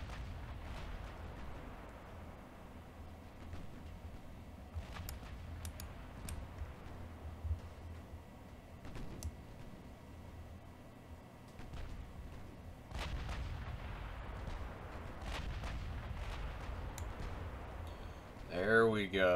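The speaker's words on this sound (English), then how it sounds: "The 16-inch guns are firing away, but they can't hit anything." Heavy 16-inch naval guns fire in Ultimate Admiral Dreadnoughts, a naval battle video game, with scattered deep booms and rumbling salvos through a steady battle din, under ongoing speech.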